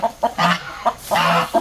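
Chickens and roosters cluck in short repeated bursts as they settle on their roosting perch in a backyard coop, several birds calling close by with brief pauses between calls.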